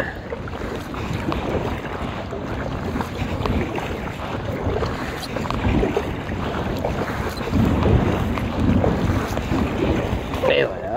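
Strong, continuous wind buffets the microphone in a steady roar while kayaking in an inflatable kayak on the Saint Lawrence, with water movement faintly underneath and no clear voices.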